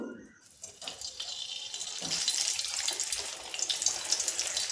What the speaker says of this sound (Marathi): आपण एक एक मोदक सोडून तळून घेऊ